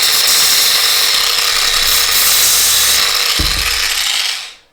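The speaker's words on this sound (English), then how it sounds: "That's what I usually do, is just get the sander." A power sander smooths small wooden automata parts with a loud, steady, buzzing grind, close by, with a brief knock near the end before the motor spins down and cuts off.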